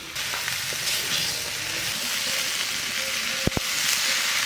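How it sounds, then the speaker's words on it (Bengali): Cabbage and potatoes fry in a pan with a continuous close sizzle and hiss, a couple of sharp knocks near the end, nobody speaking. "বান্ধাকপি ভাজা হয়ে গেছে"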